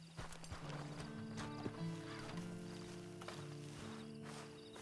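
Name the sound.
horse in Red Dead Online video game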